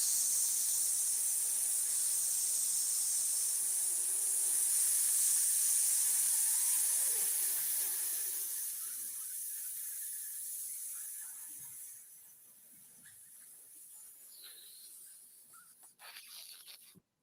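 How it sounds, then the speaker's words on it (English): Air hisses out steadily and loudly for several seconds, then gradually fades and thins toward the end, with a small burst just before it stops. "That's the sound of the air being let out of people's football enthusiasm"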